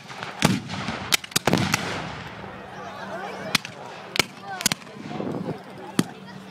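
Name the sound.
Civil War reenactment cannon fired without cannonball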